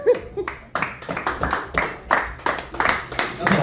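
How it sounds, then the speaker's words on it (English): Scattered clapping from a small audience at a holiday comedy show, uneven bursts of applause mixed with a comedian's talk and crowd noise, close and fairly loud. "That's a full smattering of applause, my friend."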